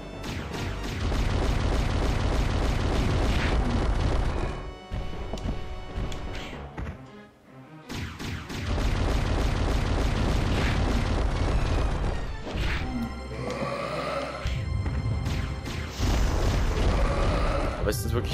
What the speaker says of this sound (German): Hier wieder Granate.